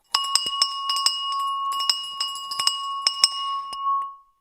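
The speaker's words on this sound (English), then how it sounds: "I got the bell ready." A small bell rung repeatedly to mark the stock market open, a rapid irregular series of bright metallic dings that ring on and fade out at the end.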